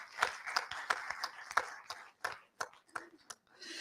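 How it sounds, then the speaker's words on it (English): An audience at a data policy panel event claps for a speaker, a sparse scatter of individual hand claps at moderate distance rather than a full roar, with some talk mixed underneath. "Round of applause for her"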